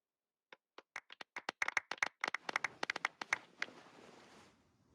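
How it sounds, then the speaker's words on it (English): A small group clapping for a champion in a Genshin Impact scene, sparse claps building into quicker, denser applause before fading out, close and clean with no talk. "Let's give our champion Kaveh one last big round of applause."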